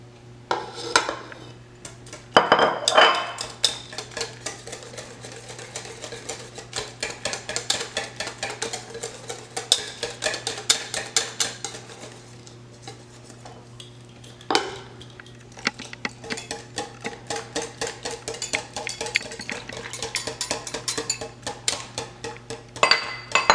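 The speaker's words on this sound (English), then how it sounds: "I use my whisk to blend it. And then I'm going to put my milk, but I'm going to do it little by little." A whisk clatters briskly against a bowl while milk is added little by little to wet fritter batter, steady scraping and tapping strokes with brief pauses, close and alone.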